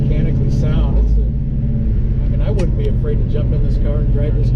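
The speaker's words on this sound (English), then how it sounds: "this is how an L72 is supposed to drive" A 1969 Chevy Impala SS with an L72 427 V8 drives along, its loud, steady low engine rumble continuous throughout, with someone talking over it.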